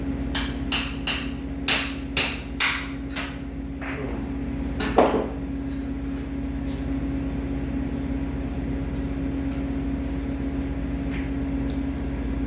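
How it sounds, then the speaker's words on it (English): About seven quick metallic hammer blows on a punch ring out in a steady rhythm, knocking the small motor out of a hard disk, then one heavier strike follows, leaving a low mechanical hum. "grabbing the punch and the hammer, and I'm gonna knock this motor right out."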